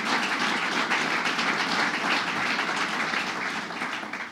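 Steady applause from an audience at a state grant awards event fills the room, a dense continuous wash of clapping holding level and easing slightly toward the end, with no talk over it.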